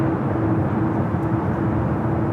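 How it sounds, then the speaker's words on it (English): A Korean Air A380 taking off at LAX gives a steady broad jet roar with a low hum, heard at a distance and without talking. "Korean Flight 18, A380 Super heading back to Seoul, now heading up here for north side at takeoff"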